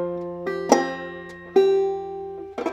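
Clawhammer banjo picks out a measure of the old-time tune Snowdrop, a few sparse, ringing plucked notes with sustained drone and a louder strum near the end, close and clear with no talking.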